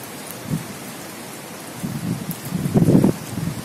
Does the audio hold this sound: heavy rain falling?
yes